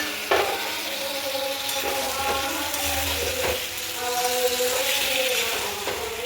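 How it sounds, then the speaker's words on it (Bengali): Potatoes frying with onion in a pan, ginger and garlic paste added for aloo dum, give a steady close sizzle with repeated stirring scrapes and clinks throughout. "দেখো আলুটা পেঁয়াজ দিয়ে ভাজছি ভালো করে।"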